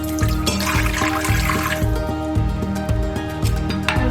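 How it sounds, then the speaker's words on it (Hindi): Water pours steadily into an Instant Pot before steaming, a continuous trickling splash heard over a rhythmic background beat of music. "तो इंस्टेंट पॉट में पहले मैं इसमें पानी डाल दूंगी"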